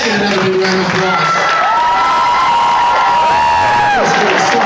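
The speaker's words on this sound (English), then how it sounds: "Let's get another big round of applause." Loud crowd cheering and applause at a strength team show, with whoops and shouting over continuous clapping and a voice talking through the noise.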